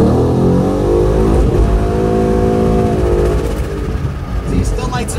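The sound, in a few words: 2011 Ford Mustang GT accelerating, spinning tires, quick shifting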